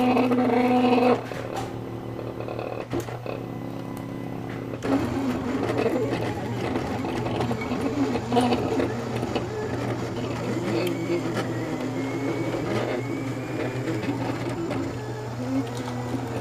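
Printer running in the background of a room with a Silhouette Cameo cutter, a continuous mechanical whir and hum with faint clicks and shifts, alongside distant household activity.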